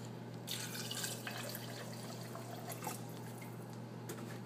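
Alkaline water at pH 11.5 is poured onto washed nuts, a soft, steady trickle and splash of liquid with a few brighter drips, faint and close, with no voices.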